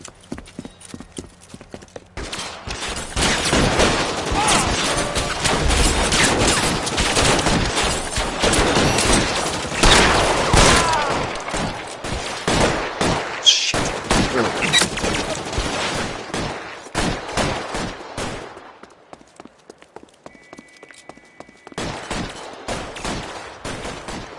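Police shootout in the video game L.A. Noire, with bursts of gunfire rattling over heavy clip-clopping hooves and a horse's whinny, loud and busy before dropping to sparse shots and quiet.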